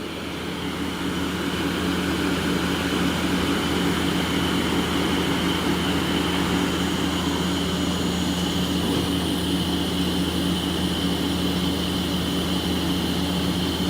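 Spindle of a 2013 Mazak Hyper Quadrex 450MY CNC turning center running steadily at 1,000 rpm, a loud continuous machine drone with layered low hum and broadband whir, no talk.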